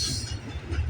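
A CN freight train rolls past at a Burlington West railway junction, a steady, close rumble of wheels on rail with low heavy droning and some high hiss throughout the short moment, no voices.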